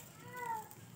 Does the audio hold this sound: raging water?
no